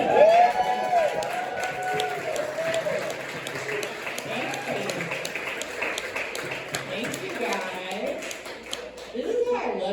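Audience at a cabaret comedy show in Tucson clapping steadily for the full stretch, a dense, loud wash of applause with scattered cheers, while a comedian keeps talking over it.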